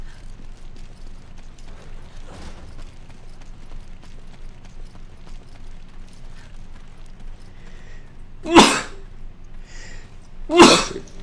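Two sharp, loud sneezes close to the microphone, about two seconds apart, standing out against quiet game background sound.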